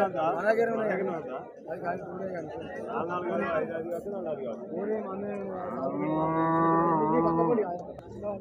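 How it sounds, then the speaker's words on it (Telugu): A Holstein Friesian cow lows several times at a busy rural cattle market, with drawn-out moos mixed into loud nearby talk and crowd chatter. "ఆవు ఇది హెచ్ఎఫ్, ఇది ఈ రకం ఉన్నదండి ఆవు."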